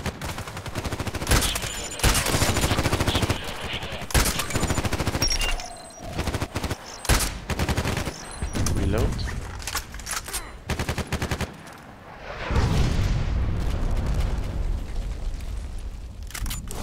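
Heavy gunfire in the online shooter Contract Wars on the Interchange and Old Sawmill maps, sharp shots and automatic bursts in irregular clusters, sometimes close and loud, with a swelling blast near the end.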